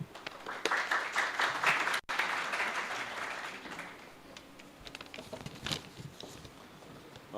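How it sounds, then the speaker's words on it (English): Clapping rises from a lecture audience at an IEEE ComSoc Lahore cybersecurity event, full for the first few seconds, then thinning to scattered claps that fade toward the end. "Please give him a big round of applause."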